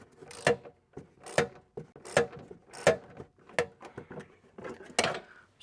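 A ratchet with a deep well socket loosening a dash fastener on a 1975 vehicle gives about seven short, evenly spaced bursts of clicking, close up and crisp, with quiet pauses between the strokes.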